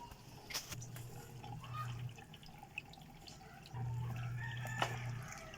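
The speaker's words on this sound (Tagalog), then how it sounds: "So, ngayon, malinis na yung tubig na lumalabas." Dirty water from a clogged washing machine runs and splashes steadily into a drain, with faint dripping and a low hum swelling in two stretches.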